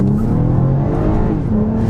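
A 2022 Toyota Camry TRD's 301-horsepower V6 drones steadily and loud from inside the car while driving, a constant low engine hum with faint tonal rises throughout.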